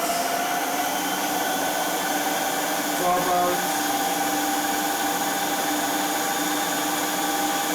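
An electric mixer beats vanilla cake batter at high speed, a steady continuous whirring drone that holds unbroken throughout with a slight bump midway.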